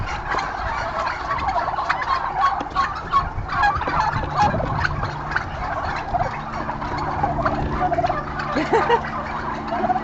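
Turkeys gobble at a turkey farm, a dense chorus of overlapping calls from many birds going on steadily, some close and loud, others farther off.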